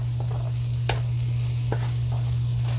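Onions and shallots soften in a pan with minced garlic and ginger, a low even sizzle with a few faint stirring taps, close and alone over a steady hum.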